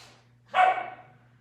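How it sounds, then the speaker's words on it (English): A dog gives a single close, loud bark indoors, the sound trailing off quickly against a steady low background hum. "My dog's going at it."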